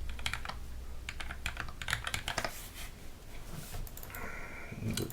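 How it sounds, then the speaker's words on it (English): Typing on a mechanical keyboard fitted with lubed Sky Gat switches with milky bottoms and clear tops, a rapid irregular run of close, crisp clacks with brief pauses and no talking. "So next, I'm gonna see how they sound."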